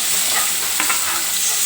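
Finely chopped onion fries with cashews in a pan, giving a continuous loud, close hiss and sizzle with a faint stir or scrape partway through and no voices.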